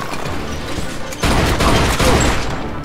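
Gunfire in the crime game Mafia 2, a dense fusillade of shots that swells suddenly midway and stays loud and continuous to the end.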